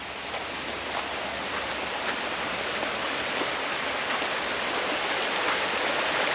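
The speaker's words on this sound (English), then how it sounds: "behind the van we've got our own stream or our own river" A stream runs right behind a campervan parked at a campsite, giving off a close, steady rush of flowing water. The sound stays even throughout, with faint splashes on top.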